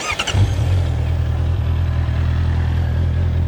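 A 2019 Honda CBR650R motorcycle engine cranks briefly in neutral and catches, then settles into a steady low idle rumble that continues to the end.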